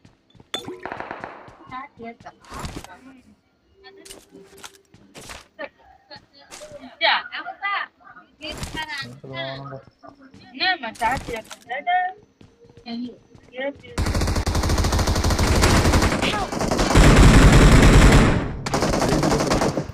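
Bursts of automatic gunfire in the BGMI battle royale game, sporadic shots early under excited talk, then a sustained loud barrage of rapid fire in the last six seconds.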